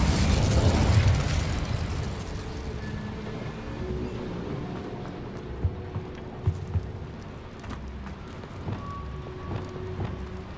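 In the Hogwarts Legacy video game, an Incendio fire spell is cast: a loud fiery burst and whoosh that fades into crackling and scattered pops over ambient game sounds.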